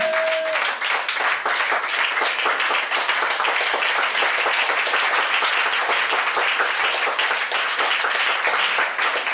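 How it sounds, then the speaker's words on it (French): A church congregation applauding loudly to acclaim Jesus during a worship service, with dense, sustained clapping from many hands filling the room evenly from start to finish. "Acclame très fort le Seigneur Jésus, lève-toi."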